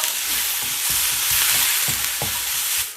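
Loud, continuous sizzling of onions, ginger and spices frying in hot oil, with a spoon scraping the pan in several rhythmic stirring strokes.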